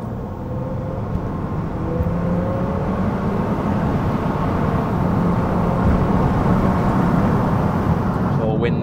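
An Audi A5 3.0 TDI diesel engine with the exhaust backbox deleted rumbles steadily with a deep, droning exhaust note that builds slightly as it goes, heard close up with some whirring.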